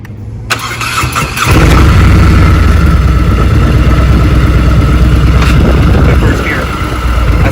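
Heavy motorcycle engine revving up and pulling away in first gear as the clutch is eased out, a loud, close, steady rumble rising after a short idle.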